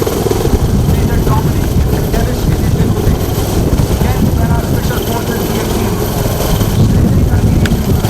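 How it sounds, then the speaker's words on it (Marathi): An army helicopter's heavy rotor thrum and engine roar fill the air, loud and continuous, as it showers flowers on a crowd at an army event in Nagpur, voices mixed in underneath. "लष्कराच्या हेलिकॉप्टरमधून मैदानात उपस्थित नागरिकांवर पुष्पवृष्टीही करण्यात आली"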